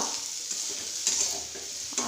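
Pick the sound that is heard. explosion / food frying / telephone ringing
food frying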